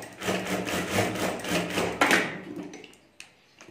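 A sewing machine stitches two fabric strips together for a potali bag, giving a quiet, evenly spaced run of mechanical thumps that slows and ends with a few scattered taps.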